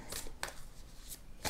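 Tarot cards are shuffled by hand in quick bursts, with several short riffling rustles separated by pauses, close and fairly soft.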